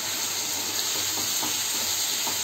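Ground cumin and hand-torn chillies sizzling in hot oil in a pan for Rui fish curry, a steady close hiss and crackle that runs unbroken with no voices.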